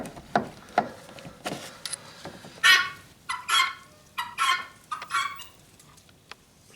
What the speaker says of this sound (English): That would be my neighbor's guinea hens.